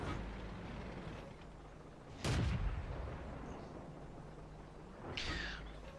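M24 Chaffee light tank from World of Tanks firing its main gun: one loud, booming shot about two seconds in rises sharply over steady engine rumble, then fades, with a fainter metallic hit near the end.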